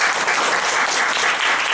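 Dense, loud audience applause at a lecture on software technology and convergence education, a continuous wash of many hands clapping with no pauses.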